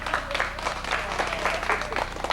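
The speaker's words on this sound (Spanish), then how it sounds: "El aplauso para el cumpleañero." Guests applaud a boy turning seven at his birthday party, a brief burst of clapping with irregular individual claps over a low background murmur.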